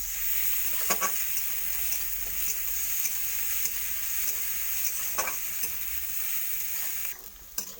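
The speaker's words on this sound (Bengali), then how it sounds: "এবার আমি রসুনটাও একইভাবে ভেজে নেবো ভালো করে" Steady sizzling of garlic frying in a hot pan, with a few soft stirring scrapes and clinks, continuous throughout with no talking.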